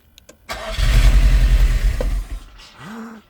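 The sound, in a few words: Nissan S13 200SX turbo engine starting and running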